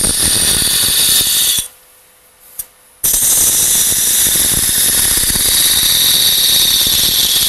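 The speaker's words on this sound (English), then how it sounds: "I'm going to take a 3/8 inch spindle gouge, and I'm going to come in here and define the hat brim and the head." A 3/8 inch spindle gouge cuts wood on a lathe, shaping the hat brim and head of a snowman: a loud, continuous roaring hiss, broken midway by a brief near-silent gap before the cut resumes.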